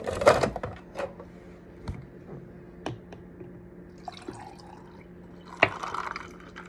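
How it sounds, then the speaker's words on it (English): Milk poured into a cup of ice makes quiet, scattered drips and small clinks and splashes, with sparse sharp ticks against a hushed indoor background. "So what I do is I pour the milk in my cup of ice."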